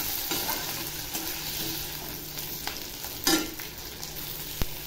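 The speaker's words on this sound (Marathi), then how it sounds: "टोमॅटो भाजताना थोडेसे मी धने टाकते।" Tomatoes and coriander seeds roasting in a pan, a soft steady sizzle with occasional light scrapes and a couple of sharp taps of a utensil, fairly quiet and close.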